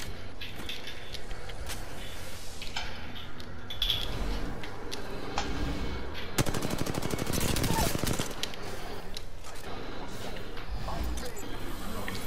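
Video game gunfire crackles throughout, with single shots and a dense burst of rapid automatic fire in the middle, while people talk over it.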